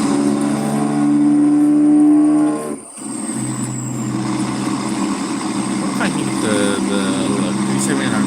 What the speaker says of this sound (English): this cab over sounds good